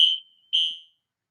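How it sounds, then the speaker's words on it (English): A smoke or fire alarm sounds indoors in two shrill, piercing beeps about half a second apart, loud and alone with no voices over it. "We got a fire alarm?"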